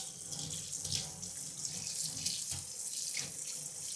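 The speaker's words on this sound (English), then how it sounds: "we have to wet our hand completely under the water" Tap water pours steadily into a sink for hand washing, a continuous close splashing rush with slight surges and no voices.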